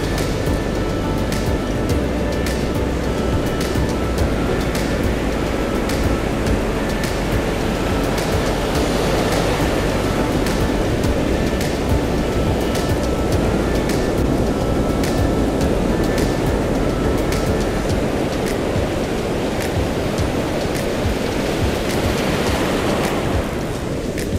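Ocean surf breaking on a beach, a steady loud wash of waves and rushing water with some wind noise, continuous and close.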